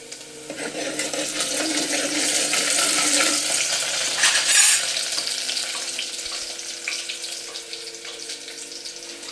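Onion frying in hot oil makes a loud hiss that swells and then eases into a quieter steady sizzle, heard close with no talking.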